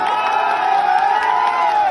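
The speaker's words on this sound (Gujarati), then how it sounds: "એકવાર તાળીઓથી વધારો સાહેબ" Crowd at an Aam Aadmi Party public rally in Morbi cheering and applauding, a dense, continuous wash of clapping and shouts, loud and close throughout.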